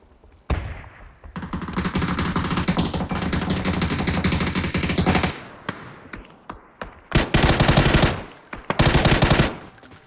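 Loud, rapid automatic gunfire in PUBG during a custom match in a house, with one long sustained burst and then two shorter bursts separated by brief pauses.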